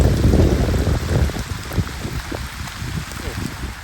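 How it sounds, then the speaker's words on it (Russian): Steady rain falls close by during a warm thunderstorm, a dense hiss and patter that is heaviest at first and then eases slightly, with no clear speech. "Под дождем стою, вообще тепло прям."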